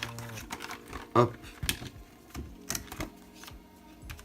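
Handling noises from unboxing an AliExpress package containing a phone case: packaging crinkles and taps, a sharp knock near the middle, intermittent clicks and rustles, with a short spoken interjection at the start.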